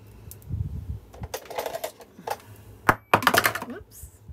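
Scissors snip and crunch through a paper file folder along its seam line, in a series of short, irregular cuts close by with light handling rustles between them.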